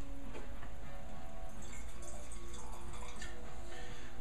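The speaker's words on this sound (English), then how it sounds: "let's give it a little pour" Wine pouring into a glass, a continuous close trickle and splash of liquid that runs steadily for several seconds.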